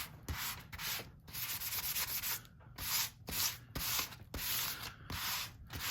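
A hand rubs back and forth over a National Geographic magazine page laid under paper, making rhythmic, close, papery scrubbing strokes with brief pauses between them and no talk.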